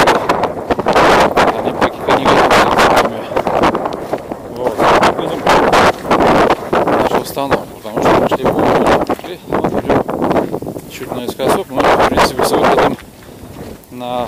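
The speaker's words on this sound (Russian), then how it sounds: "Ветер такой еще сырой." Cold, damp wind with light rain near a village road, buffeting the microphone in loud, uneven gusts almost without pause, with a person talking over it.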